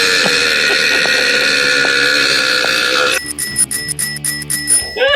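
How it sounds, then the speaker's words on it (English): A bell rings repeatedly over a sustained droning tone, then gives way to rhythmic, music-like striking. "The bell at the end. I like the bell."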